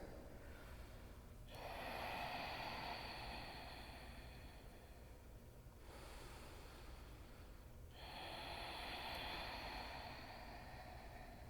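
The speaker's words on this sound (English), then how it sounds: "Begin your Ujjayi breathing, deep in and out of your nose." Deep Ujjayi breaths drawn in and out through the nose during a power yoga practice, three long airy swells of rushing breath with brief pauses between, close and steady.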